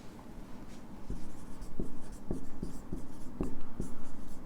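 Pen or pencil writing on paper, close and fairly soft, with a steady run of scratchy strokes and a few sharper taps.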